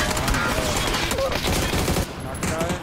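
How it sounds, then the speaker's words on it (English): Rapid, sustained gunfire hammers at a house in a multiplayer shooter video game, loud and dense, with shots overlapping in a continuous volley. "They're shooting at the house."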